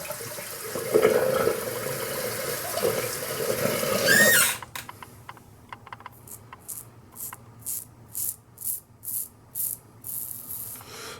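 A shaving brush loads a hard shaving soap, at first in continuous wet swirling, then in a series of rhythmic squishy strokes as lather builds, close up with no talk.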